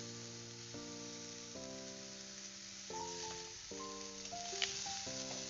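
A drumstick pickle sizzles steadily in a pan with chili powder and is turned over as it fries, a soft continuous crackle running beneath sustained tonal music.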